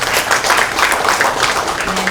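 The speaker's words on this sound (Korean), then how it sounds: "우리 큰 박수로 모시겠습니다." Brief burst of audience clapping welcoming a presenter at a Korean art-investment seminar, loud and close with a dense, steady texture.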